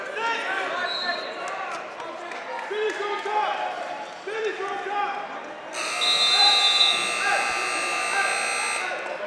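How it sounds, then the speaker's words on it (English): A loud electronic buzzer sounds to end a wrestling period at a district wrestling match. It cuts in over crowd noise and commentary and holds steady for several seconds. "Right at the buzzer there"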